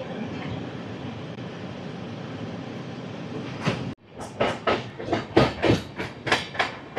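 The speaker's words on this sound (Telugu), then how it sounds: "ఇప్పుడు వచ్చేసరికి రైట్కి అయితే కర్వ్ అయితే తీసుకుంటుంది మన ట్రైన్" Double Decker Uday Express train taking a right curve near Duvvada, with steady rumbling wheel noise that cuts out briefly, then rhythmic, loud clacking bursts of wheels over rail joints.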